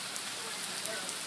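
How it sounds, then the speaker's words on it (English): Rain falling outdoors, a soft continuous hiss of drops pattering on surfaces, faint and steady throughout. "Raining."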